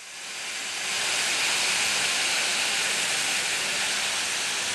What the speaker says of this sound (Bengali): এখন আমি এখানে দিয়ে দিব লিকুইড দুধ।